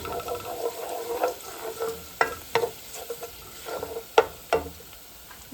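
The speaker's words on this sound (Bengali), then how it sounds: "এরপর এখন আমি দেবো ড্রাই মেথি সিডস" Dry fenugreek (methi) seeds dropped into hot oil for a simple hog plum curry, giving a soft steady sizzle under scattered sharp clicks and spoon scrapes, with no talking.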